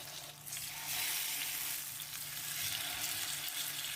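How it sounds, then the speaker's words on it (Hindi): Pomfret fish shallow-frying in hot oil gives a steady, close sizzle and crackle that swells as the fish goes into the pan, then holds evenly with no talking. "हम फ़िश रखते हैं इस पर।"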